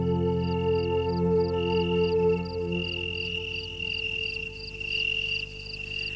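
An Oecanthus tree cricket (Italian tree cricket) sings a steady, melodic trill with regular pulsing, close and continuous, over a faint background hum.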